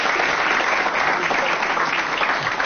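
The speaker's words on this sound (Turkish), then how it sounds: "Peki alkışlarla." A studio audience at a Turkish television talk show breaks into dense, steady applause that fills the whole short stretch with no voices over it.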